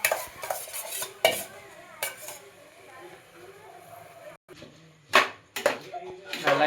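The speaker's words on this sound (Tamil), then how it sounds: "நல்லா கிளறி விட்டுட்டோ தண்ணி ஊற்றுறமா எடுத்து" A spoon stirs a rice and lentil mixture in a cooking pot, making repeated close metallic scrapes and clanks in irregular bursts while people talk nearby.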